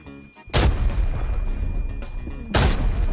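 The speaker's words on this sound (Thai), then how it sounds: "เฮ้ยระเบิดอีกแล้ว" Grenade blasts in the tactical shooter Arena Breakout: two heavy, booming explosions about two seconds apart, each with a sharp, loud onset and a rumbling tail, with gunfire-like crackle in between.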